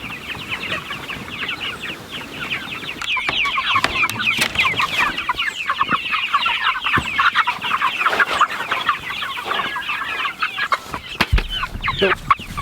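Cornish cross broiler chickens cluck and chatter continuously at close range. The many overlapping calls form a busy, fairly loud flock sound with a few knocks and shuffles and no speech.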